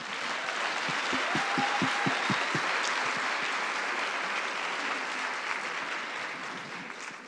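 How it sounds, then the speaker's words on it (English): Conference audience at the Africa Health Agenda International Conference applauding, steady moderate clapping from a crowd, with a few distinct nearby claps early on, slowly tapering off. "I think another round of applause,"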